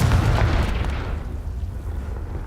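A Confringo spell explodes in the Hogwarts Legacy video game, right after a Flipendo cast. A loud, close, low rumbling blast hits at once and fades into a long, dull, boomy tail with no talk over it.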